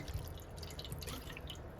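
Cold water poured over boiled spinach sitting in a strainer, giving quiet splashing and dripping sounds heard close up with no talk.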